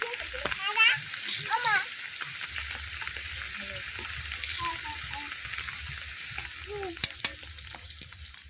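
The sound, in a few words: neem leaves frying in a pan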